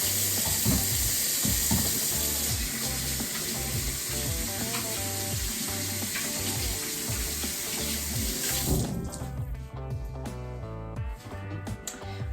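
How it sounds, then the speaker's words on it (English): Hands are washed under a running kitchen tap, a close, steady stream with splashing and shifting water that ends abruptly after about nine seconds, followed by quieter clinks and sizzle. "Okay, hands are washed."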